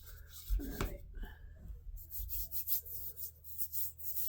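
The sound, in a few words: scraping hot glue residue off a plastic ornament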